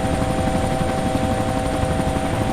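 A helicopter in the military game Arma 2 Operation Arrowhead drones with a loud, steady rotor and turbine roar and a constant whine, close and unbroken throughout.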